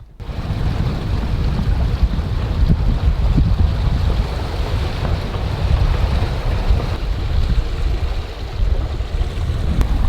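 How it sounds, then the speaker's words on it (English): A sailboat runs downwind under full sail in an 18-knot breeze at about 8 knots, with continuous loud wind buffeting and rushing water against the hull. "we've got full sail up going downwind, doing about 8 knots"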